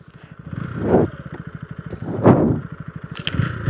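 A KTM Duke 160 motorcycle engine revs hard at close range, with two sharp throttle blips climbing over a steady pulsing idle, then a brief high rattle near the end.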